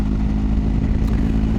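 A 2021 BMW R1250GSA motorcycle's 1250 cc engine runs with a close, loud, steady low rumble and throb, heard alone without speech.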